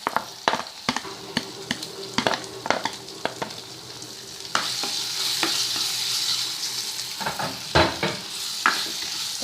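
Capsicum sautéing in a pan, a loud close sizzle that swells midway, with frequent metal spatula clacks and scrapes against the pan and no voices.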